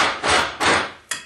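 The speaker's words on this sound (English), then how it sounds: "I just found a new use for this drum sander dealie." An Eastwood Contour SCT drum sander with a stripping disc works a cast aluminum bronze spear head. It makes three short, harsh abrasive bursts, close and fairly loud, with no talk.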